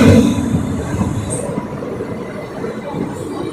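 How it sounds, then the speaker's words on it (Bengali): A train rumbles steadily into a station on the Tarakeswar pilgrimage route during the Shrabani Mela, with low rolling wheel noise and faint high squeals. The sound is close and continuous, and no one speaks. "ঢুকে গেল আমাদের ট্রেন।"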